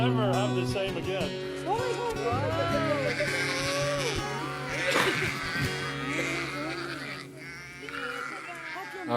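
Sheep bleat repeatedly near and far, overlapping in a busy chorus, while people talk quietly among them.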